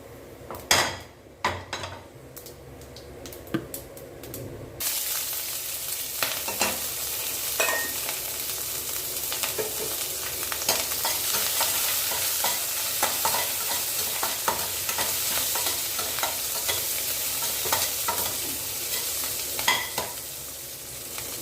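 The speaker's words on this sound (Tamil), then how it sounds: "வெங்காயம் நல்லா வதங்கி வரட்டும்." Loud sizzling fills the pan as onions, green chilli and ginger sauté, preceded by a few metallic clinks and stirring taps; the steady frying hiss continues with occasional scraping of a spoon.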